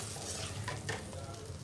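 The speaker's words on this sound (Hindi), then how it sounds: "सब ये उबलने लगी है ग्रेवी।" Eggless egg curry gravy made without onion or garlic bubbling and sizzling in a pan, a steady close simmer with soft stirring scrapes throughout and no talking.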